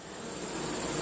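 Honeybees buzzing steadily at a hive entrance during robbing, a faint, continuous hum, a close-up drone of many insects without any voices.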